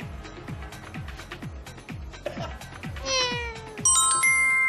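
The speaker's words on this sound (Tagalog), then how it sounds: "May pusa." A cat meows repeatedly in a steady series of short, descending cries, fairly loud and close, followed by bright chiming tones and electronic effects near the end.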